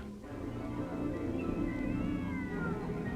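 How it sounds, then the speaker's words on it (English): A cat screams outdoors at night in a long, wavering, drawn-out yowl that rises and falls over a few seconds, heard at moderate distance against a steady background hum. "A cat screams."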